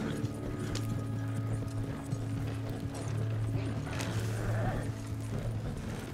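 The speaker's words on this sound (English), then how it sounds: "Horses." Horses gallop in the video game Red Dead Online, a fast, near, continuous clatter of hooves with snorts and a whinny over a steady rumbling hum of game sound.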